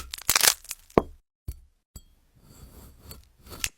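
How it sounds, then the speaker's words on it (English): Glass fruit sliced through by a blade, a string of sharp cracking, crunching cuts with brief gaps of silence between them, fairly close and clear with no talk. "So these are glass fruits that are being cut through."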